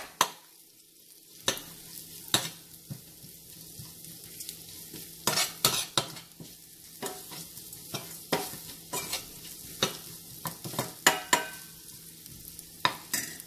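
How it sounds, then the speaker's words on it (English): Shallots, ginger and garlic fry with turmeric powder in a pan at low flame, a quiet sizzle punctuated by frequent crisp scrapes of a stirring spoon. "Once the shallots, ginger and garlic change to a golden color, I am going to add the turmeric powder."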